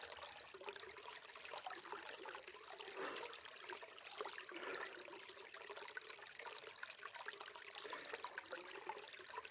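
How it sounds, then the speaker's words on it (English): A snow melt creek flows in a continuous, even rush of water, faint and steady with no voices, heard along a trail in Oregon. "It's definitely snow melt creek."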